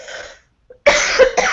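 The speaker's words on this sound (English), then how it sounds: "I'm going to cough for a second and I'll edit it out." A single loud cough bursts out close to the mic after a short silence, preceded by faint indistinct sound; no speech.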